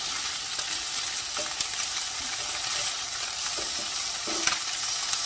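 Pre-cooked octopus pieces frying in a pan for paella, giving a steady close sizzle and hiss with a few soft clinks and scrapes now and then, no talking.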